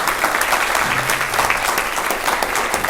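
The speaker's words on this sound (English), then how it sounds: "And thank you, candidates, very much for being here. Please round of applause." An audience at a Santa Ana city council candidates forum claps for the candidates, a brief burst of dense, even applause lasting about three seconds.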